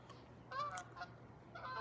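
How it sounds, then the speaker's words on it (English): A flock of geese honking as they fly overhead outdoors, several bursts of calls at moderate distance over a steady low hum. "we got some geese flying overhead"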